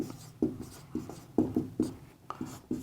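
Chalk or marker strokes on a board during a Hindi-English chemistry lesson, a steady series of sharp scratching taps and short scrapes, close and clear, with no voice over them.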